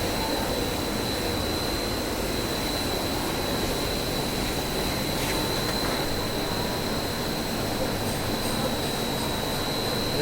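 A printing machine runs continuously at close range, a loud, unbroken mechanical roar with a steady high-pitched whine running through it and no pauses.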